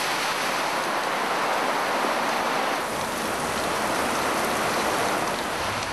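Heavy rain drums steadily on a corrugated iron roof in Mozambique, a dense, loud, unbroken roar that continues without pause.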